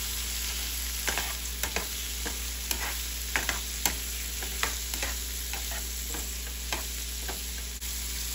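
Calabacitas seasoned with black pepper being stirred as they fry in a pan, a steady close sizzle broken by a run of sharp spoon scrapes and clicks against the pan.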